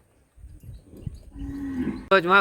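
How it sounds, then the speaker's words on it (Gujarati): A cow moos loudly near the end, a deep drawn-out call rising over low rustling and a softer earlier lowing. "પ્રેમ તો તમે જોઈ જ શકો છો વિજયભાઈ ને ગાયો પ્રતિ"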